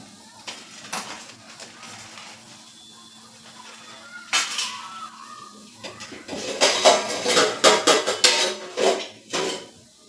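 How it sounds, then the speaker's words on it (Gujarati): A metal cooking pan is set onto a gas stove in a home kitchen while matar paneer gravy is being made. A few sharp clanks come first, then a close, dense run of metallic knocks and clatters. "ગેસ ચાલુ કરીશું અને તેના પર એક વાસણ રાખીશું"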